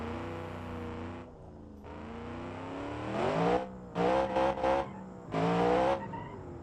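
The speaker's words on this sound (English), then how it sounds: "Yep, that's just wheel spin." Wheel spin from a V8 drift truck in the BeamNG driving simulator: a steady engine drone with tires squealing in several loud, rising bursts, the last ones chopped into quick pulses, no voices.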